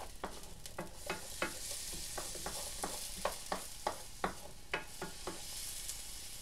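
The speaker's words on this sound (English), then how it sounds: "When you're cooking your garlic and your onions, you don't need to do like an Italian cooking where you caramelize it, at least in stir fry." Garlic and onions stir-fry in a pan with a continuous bright sizzle, punctuated by regular spatula scrapes and taps, close and fairly quiet.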